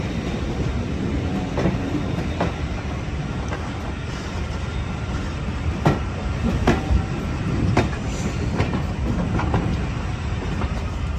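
Riding a train on the North Yorkshire Moors Railway near Grosmont, with steady rumbling rail noise and intermittent sharp clicks of wheels over track joints, continuous and close.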